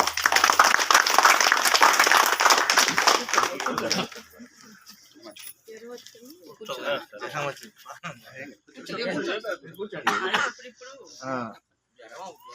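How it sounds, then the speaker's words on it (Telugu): Loud burst of applause from a crowd at a temple committee chairman's swearing-in ceremony, dense clapping for about four seconds, then fading into scattered voices talking nearby. "congrats big claps"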